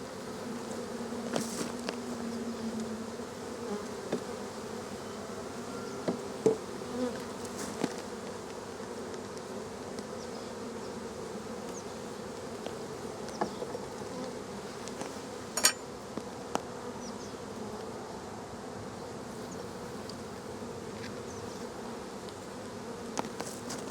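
A dense swarm of honey bees drones steadily around an opened hive during a nectar dearth as frames are pulled out, with faint clicks and knocks from hive parts scattered through the buzzing.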